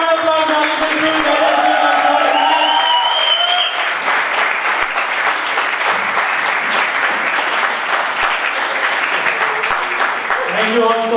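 Comedy-show audience gives a long, loud round of applause with scattered cheers, steady dense clapping filling the room, while voices speak over it at the start and end.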